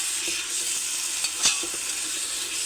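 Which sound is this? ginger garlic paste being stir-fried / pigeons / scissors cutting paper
ginger garlic paste being stir-fried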